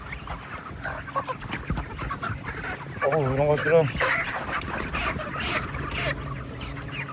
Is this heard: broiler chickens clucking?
yes